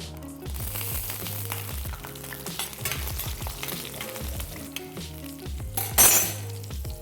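Garlic frying in a pan of oil with chillies and cinnamon for a Tamil Nadu style mutton uppu kari, a steady loud sizzle with a spatula stirring and clinking against the pan throughout.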